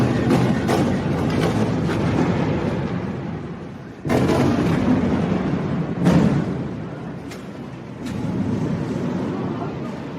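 Bombardment in Gaza heard from a shelter where a family has gathered, with a constant rumbling roar and several sudden heavy blasts spaced a few seconds apart, some near and loud, over a dense background of noise.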